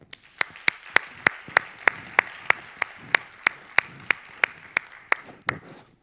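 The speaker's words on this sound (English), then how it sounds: "let's give them a round of applause" A single person claps slowly and steadily at a speaker-led event, about seventeen sharp, evenly spaced claps over a quiet room, close and distinct with no talking.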